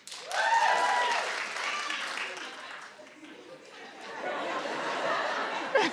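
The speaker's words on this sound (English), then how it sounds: "clap if you watched" A talk-show studio audience claps steadily for several seconds, mixed with scattered laughter and murmuring chatter.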